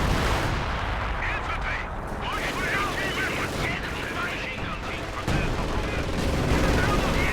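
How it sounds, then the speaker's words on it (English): Howitzer artillery shots boom out in a video game battle, mixed with continuous rattling gunfire and machine-gun bursts that fill the whole stretch at a steady, loud level. "So we got more howitzer shots going off."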